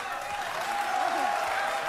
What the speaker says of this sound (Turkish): Anlayanlar alkışlasın.